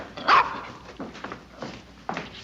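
A puppy gives a few short, high yips and barks in a classic 1960 TV episode, the first loudest and the rest fainter, spaced over a couple of seconds with no talking.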